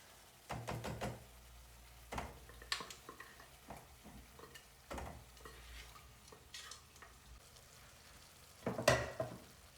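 Mutton pieces are dropped into a hot pan for Africa mutton varuval and fry with a soft sizzle, close and loud, broken by repeated stirring scrapes and knocks of a utensil against the pan.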